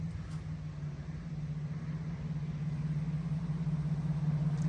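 A car's engine runs as it cruises up, giving a steady low rumbling hum that slowly grows a little louder, with no talk over it.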